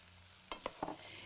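A few soft scraping stirs as couscous is mixed into vegetables in a pan, quick and close, over a faint low background hum.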